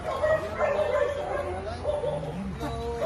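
A dog nearby gives short whimpering yips and barks over a noisy outdoor background in Nepal.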